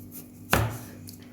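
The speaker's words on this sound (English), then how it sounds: "Just a piece of this watermelon and then I remove the white part." A knife cuts the white rind from a slice of watermelon in a single crisp, close cutting stroke with a soft thud, heard alone against quiet kitchen background.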